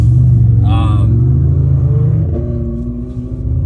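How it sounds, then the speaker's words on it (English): Deep exhaust drone of a tuned Mercedes-AMG GT S, heard from inside the car with the windows slightly open, a loud low rumble that eases off slightly toward the end, with a voice cutting in briefly. "I want the windows cracked a little bit to hear this exhaust"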